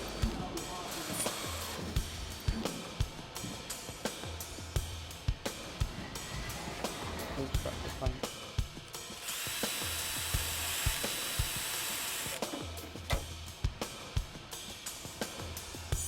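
A power drill whines in repeated short bursts with a longer run in the middle, drilling metal on a Jaguar XKSS restoration, near and moderately loud, amid clanks of handling.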